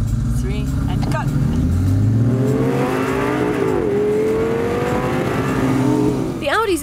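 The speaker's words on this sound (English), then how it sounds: "The Audi's extra horsepower means that Marius has the start licked." An Audi R8 Spyder pulls away from a race start, its engine note climbing through the gears under a loud, close roar, with someone talking over it.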